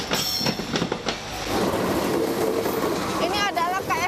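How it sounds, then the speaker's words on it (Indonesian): A train rolls along rail track running right through market stalls in Dupak Magersari, Surabaya, its wheels clacking loudly nearby and squealing toward the end, with a voice talking over it. "Jika hanya bersanding dengan kereta yang melintas, itu hal biasa."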